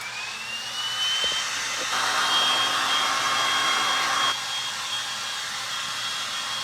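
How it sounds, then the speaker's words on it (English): A heat gun blows with a steady, loud whoosh and a rising whine, plugged in while working on a chalk paint project; the airflow swells briefly in the middle, then settles, with no talking. "let's plug in that heat gun"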